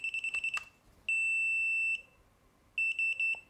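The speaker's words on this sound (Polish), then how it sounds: "I teraz mamy jedno piknięcie i trzy piknięcia" Electronic beeps from a WELL WE01A CQB airsoft rifle: a quick burst of short chirps, one long sustained tone, then a rapid run of several short beeps, clear with no talking.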